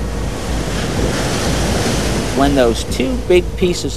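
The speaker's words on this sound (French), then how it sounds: "et en mer, d'énormes vagues se seraient formées" Huge ocean waves churning in a continuous roaring wash mixed with wind rumble, loud and steady, with a voice speaking over the surf toward the end.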